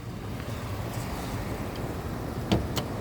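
A 1998 BMW 323i with its engine idling, a steady low rumble under the open hood, smooth and even, with a couple of brief clicks near the end.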